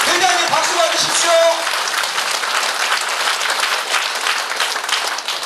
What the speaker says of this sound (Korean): 회장님 박수 받으십시오.